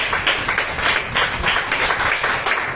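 A church congregation clapping hands loudly and steadily in unison, a dense rhythmic wash of palms that fills the room throughout.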